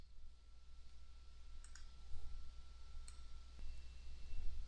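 A single faint computer mouse click sounds over a low, steady room hum, with a second soft click shortly after, isolated and without speech.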